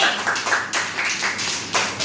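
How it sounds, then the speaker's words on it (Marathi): Children in an anganwadi classroom clap their hands together, a quick uneven rattle of many small claps close by, with bursts swelling and fading several times over two seconds. "दर्शनासाठी टाळ्या वाजवा, टाळ्या वाजवा सगळे"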